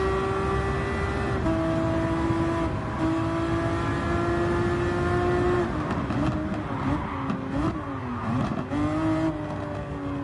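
Ferrari race car in Gran Turismo 7 at Monza, its engine droning steadily and loud throughout, with pitch shifts as it revs and changes gear near the end.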